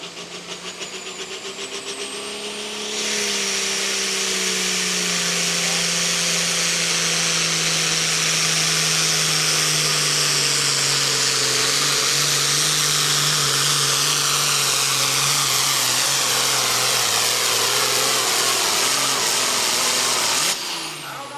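A pulling truck engine at a tractor pull is wound up hard, roaring loud and sustained after a short buildup, its pitch sliding slowly downward as it strains, then cutting off near the end.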